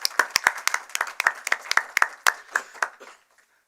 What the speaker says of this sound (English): So may I request you to give him a big applause for this.